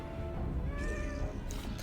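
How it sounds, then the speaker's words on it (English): A cat meows at a door, a few drawn-out, wavering calls sitting over steady low room hum, fairly faint and indistinct, with no talking. "Don't know if you can hear the cat that's at the door right now"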